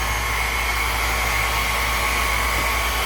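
A blower set on low pushes air across alcohol ink in a bowl, making a steady, soft, continuous hiss with a low hum beneath and no talk.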